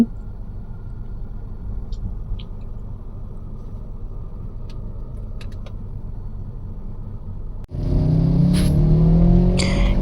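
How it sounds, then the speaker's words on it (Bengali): A car rolls slowly along an empty early-morning road during a driving lesson, a steady low road and engine rumble that swells louder and fuller near the end. "এই যে আমি ড্রাইভ করছিলাম আস্তে আস্তে"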